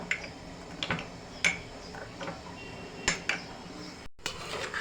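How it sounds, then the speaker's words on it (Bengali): Vegetable salad being tossed with lemon juice and mustard oil, a utensil clinking and scraping against the bowl in irregular close taps, with a brief pause near the end. "সরিষার তেল দিয়ে দেবো দিয়ে মিশিয়ে নিব এখন নেড়েচেড়ে"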